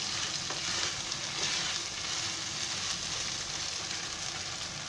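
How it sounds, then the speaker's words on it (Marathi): Chopped tomatoes fry in a pan for Konkani mutton biryani, giving a steady, dense sizzle that stays even and continuous, with no voices. "टोमॅटो कसा पूर्ण गळून जाईपर्यंत तो भाजून घ्यायचा, तो चांगला पिघळला पाहिजे."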